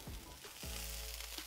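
Burger patties for cheeseburgers fry in a pan with a loud, steady crackling sizzle, broken near the start by a couple of low knocks of the pan or spatula.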